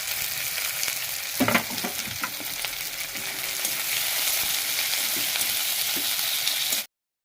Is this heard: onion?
yes